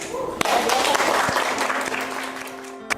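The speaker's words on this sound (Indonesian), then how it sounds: "Give applause untuk kelompok" A classroom of students applauds for a student group, steady clapping that rises quickly, holds loud and even, and trails off near the end with a few last claps.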